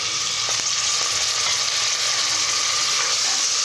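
Tomato pieces for chicken curry fry in a pan with a loud, steady sizzle and a few light stirring clicks, close and continuous with no talking.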